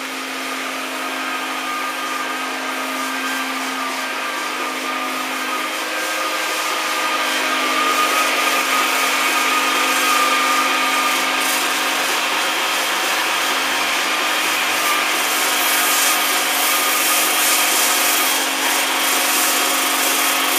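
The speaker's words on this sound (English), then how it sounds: "the guys are sanding the fiberglass hatches and the floor to make it flat" A power sander working on fiberglass hatches and a boat floor whines steadily and close by, a continuous buzzing drone with gritty scraping that holds for the whole stretch without pause.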